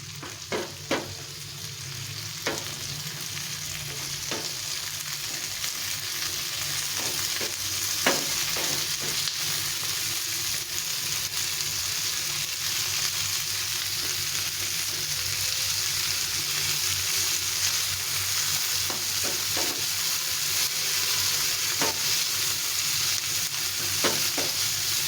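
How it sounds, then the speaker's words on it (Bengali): Onion and capsicum fry in a pan with a constant loud sizzle while a utensil stirs them, sending scattered scraping clacks against the pan throughout; no one talks. "এই পেঁয়াজ আর ক্যাপসিকামটাকে বেশ কিছুক্ষণ ধরে ভালো করে ভেজে নিতে হবে"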